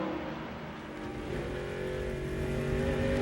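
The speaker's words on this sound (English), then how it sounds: "Yeah, you can hear Hamlin now." NASCAR Busch Series stock cars race at the 2006 Telcel Motorola 200 in Mexico City, their engines a loud, steady roar with a pitch that climbs gradually, without talk.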